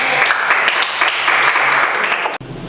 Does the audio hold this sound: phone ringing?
no